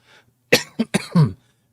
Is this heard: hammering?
no